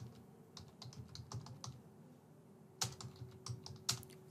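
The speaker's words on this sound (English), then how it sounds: "And here, let me type the email." Typing an email on a computer keyboard, with quiet clustered key clicks in bursts and a couple of sharper louder strokes near the end, close and alone with no talk.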